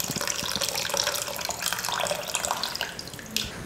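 Tamarind water being poured into a pot of simmering sambar, a steady continuous splashing pour running the whole time, close and fairly loud with no talking.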